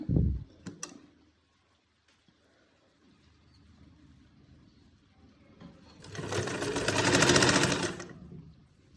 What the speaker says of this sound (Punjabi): ਸਲਾਈ ਦੇ ਉੱਪਰ ਸਲਾਈ ਧਾਰਨੀ ਆ